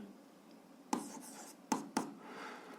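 Writing out the check of a seventh-grade algebra equation solution: quiet strokes of a pen or marker with three sharp taps as symbols are set down, in a still room with no talking.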